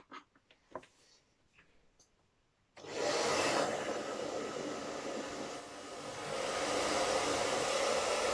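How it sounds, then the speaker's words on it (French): After a few faint clicks and handling noises, a household hair dryer switches on and blows steadily and loudly, heating glue on a Hobbyking Sabertooth RC car chassis. "j'ai été piquer le sèche-cheveux de madame"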